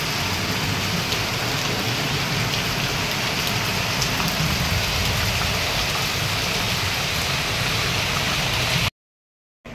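Monsoon afternoon rain in Mumbai pours steadily and loudly on surfaces, a dense continuous patter and hiss that ends abruptly near the close.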